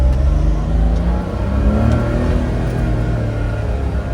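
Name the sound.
K car engine revving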